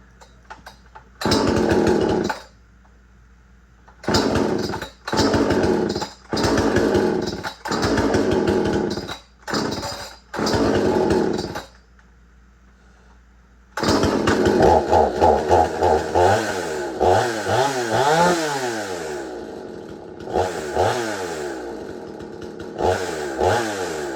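Stihl MS 291 Farm Boss chainsaw with a 20-inch bar, started in short loud bursts that cut off between pulls, then running steadily with repeated throttle revs and a rough idle, close and loud.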